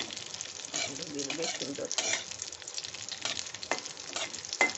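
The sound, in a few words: stirring spices with bay leaf frying in pan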